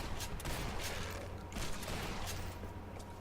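Shotgun and grenade fire during a Griffin boss fight in a video game on Legendary Hard difficulty, a dense, fairly quiet barrage of repeated bangs and crackles under a constant low background drone, no voices.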